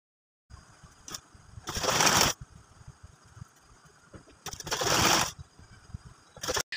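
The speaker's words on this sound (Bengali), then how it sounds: "একটা ভাঁজ করে এভাবে সোজা সেলাই করে নিচ্ছি" Sewing machine stitching fabric for a baby frock, running in two loud bursts of rapid whirring with quieter mechanical clicks and handling noise between them, close by and without talk.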